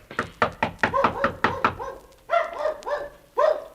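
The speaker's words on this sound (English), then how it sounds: "that sounds like Mickey barking." A quick run of knocks on a door, then a few short, sharp dog barks in separate bursts, fairly close and loud, in a radio drama.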